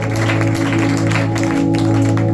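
A church congregation claps steadily in praise over sustained musical tones, the applause dense and continuous from start to finish.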